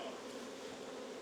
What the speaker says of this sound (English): Good looking bees.